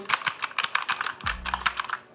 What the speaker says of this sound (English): Typing on these things are far more fulfilling than the traditional, super thin, low travel Apple keyboards that are out there.